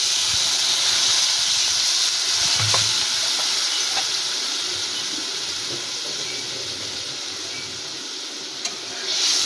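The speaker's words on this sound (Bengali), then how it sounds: "আমাদের ঝোলটা ফুটে গেছে" Puti fish curry masala bubbles in a pan after water is added, a steady close sizzle and hiss with soft stirring clicks, and no one speaks.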